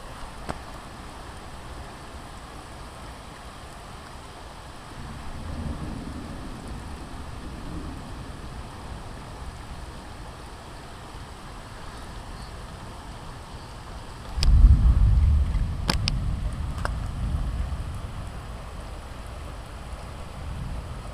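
An early morning thunderstorm gives a low, distant thunder rumble that swells about two-thirds of the way through and fades slowly over a steady background wash.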